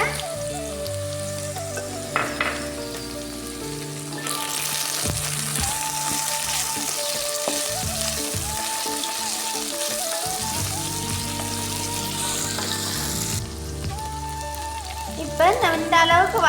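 Okra (vendakkai) sautéing in a pan with turmeric for a curd gravy, a steady broadband sizzle running throughout with brief louder bursts from stirring, close and fairly loud, alongside a low background hum.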